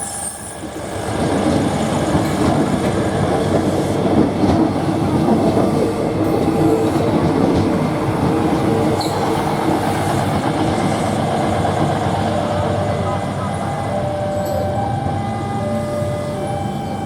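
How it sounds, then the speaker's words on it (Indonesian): An airport train crosses a railway bridge over the Code river near Malioboro in Yogyakarta, Indonesia, a steady loud rumble of engine and wheels with faint rail clatter that holds for about fifteen seconds, with no voices. "Kereta api bandara."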